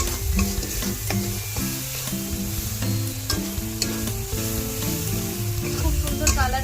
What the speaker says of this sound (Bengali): এটাকে ভালো করে মশলাটাকে কষিয়ে নেব পেঁয়াজ টমেটোর সাথে।